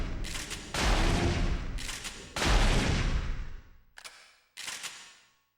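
Shotgun blasts loaded with Firefly incendiary shells in the Parasite Eve 2 video game: four loud booming shots, each trailing off in a fiery rumble, spaced unevenly with short gaps between them.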